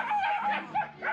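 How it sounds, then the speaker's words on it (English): Several small dogs on a street in Nicaragua yip and bark excitedly in short overlapping bursts, close and fairly loud, with a few whimpering notes between barks. "Lots of dogs. Lots of little dogs."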